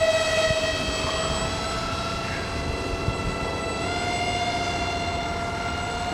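Ron's 6-foot Dragon RC model airplane drones overhead with a steady, high tonal engine whine rich in harmonics, holding fairly constant and loud throughout.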